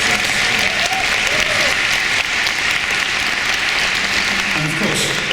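An audience in a concert hall applauds the orchestra musicians on stage with loud, steady clapping that fills the room throughout, and faint voices cut through near the end.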